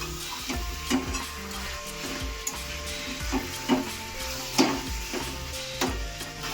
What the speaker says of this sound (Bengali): মা মাংসটাকে ভালো করে কষিয়ে নিচ্ছে প্রথমে।